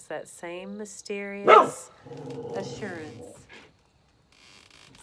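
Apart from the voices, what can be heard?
dog barking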